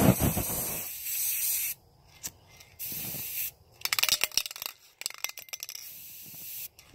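An aerosol spray paint can, being tried for a homemade flamethrower, gives loud hissing bursts of varying length separated by short silences, with rattling and clicking handling noises between sprays.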